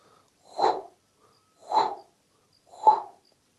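A voice imitates the heavy wingbeats of a large bird with three slow, breathy whooshes, evenly spaced about a second apart, in otherwise quiet surroundings.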